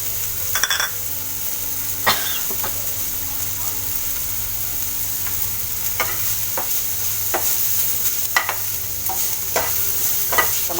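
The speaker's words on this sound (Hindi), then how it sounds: "टमाटरों को पकने देंगे। गैस को धीमी कर दिया मैंने।" Tomatoes cook in a pan over low gas, a steady soft sizzle and bubble with occasional clicks and scrapes of a spoon stirring, while a person talks over it.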